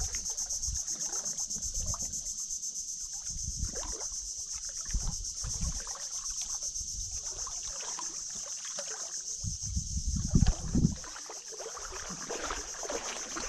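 Water sloshes and splashes in irregular bursts as a small boat is shifted, with a steady high insect drone running throughout.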